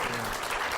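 Audience applause following a sports betting debate, a dense, steady wash of clapping filling the whole short stretch, close and continuous with no voices over it.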